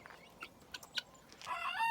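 A young cockerel kept among chickens and guinea fowl gives soft, brief clucks nearby, ending in a longer, louder call.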